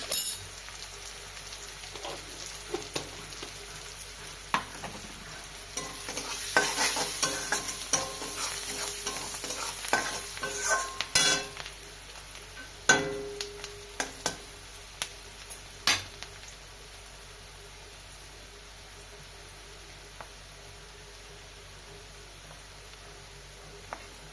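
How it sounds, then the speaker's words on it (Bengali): Onions with turmeric sizzle in a pan with frequent scraping and clinking of a spatula stirring, growing quieter as the stirring stops near the end. "পেঁয়াজগুলো লাল হয়ে ভাজা ভাজা হয়ে গেছে"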